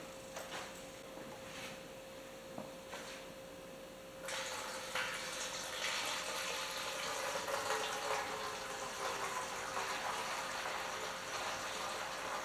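Cleaner pours through a funnel into an old 1946 Allis Chalmers WC fuel tank, a faint trickle that becomes a steadier gushing, splashing flow partway through.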